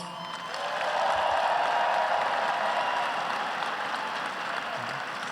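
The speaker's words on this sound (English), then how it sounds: "Please give them a round of applause." Audience applause fills an arena during a Brooklyn Nets jersey retirement ceremony for Vince Carter, a steady, dense wash of clapping from a large crowd that swells after the first second and holds loud throughout.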